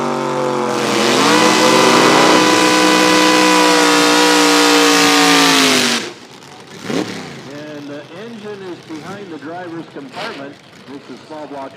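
Drag racing car at Toronto Motorsports Park during Nitro Nationals, engine revving loud and close for about five seconds and climbing in pitch, then cutting off as an announcer talks.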